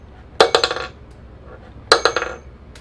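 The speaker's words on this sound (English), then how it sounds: "And I'm going to take the ring and just toss it inside the box." A solid metal ring tossed into a box lands twice, each time with a sharp metallic clatter followed by a few quick rattling bounces, close and clear against a quiet background.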